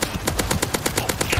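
Rapid automatic gunfire from the video game Cyberpunk 2077, about a dozen evenly spaced sharp shots in a quick burst, moderately loud with no talk.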